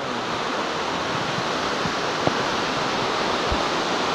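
Floodwater rushes through a flooded village in West Virginia, a steady, broad roar of moving water like a river, with a few faint knocks and splashes and no talk.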